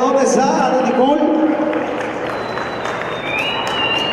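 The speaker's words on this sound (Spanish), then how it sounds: "¡Fuerte aplauso, que se oiga!" Audience at the 2017 Putleco carnival pageant applauds in a steady wash of clapping while an announcer's amplified voice talks over it throughout.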